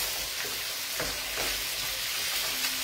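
Octopus and artichokes sizzle steadily in a hot pan over a lively flame, a continuous close frying hiss with a few soft stirring clatters, no voices.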